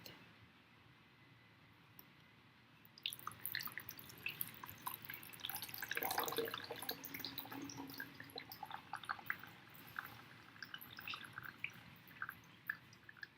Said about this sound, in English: we're just going to wait till the water continues to drip out all the way